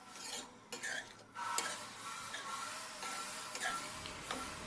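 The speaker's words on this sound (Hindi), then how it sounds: "और बीच बीच में हमें भाजी को अच्छी तरह से चलाते भी रहना है।" Chickpea leaf bhaji being stirred in a kadhai with garam masala and cumin powder: scraping, rasping strokes of a spoon against the pan come in uneven bursts, fairly close, with no talk.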